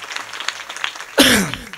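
Audience at a kirtan in Hatnur breaks into loud, dense clapping partway through, the applause swelling abruptly after quieter murmuring and continuing steadily to the end.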